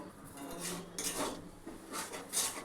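A spoon stirs Bengali lote fish chutney with tamarind in a kadai until it dries, making close, soft scraping rubs in a few repeated strokes against the pan.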